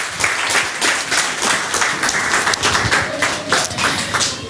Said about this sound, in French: Acclamez le Seigneur, mettez-vous debout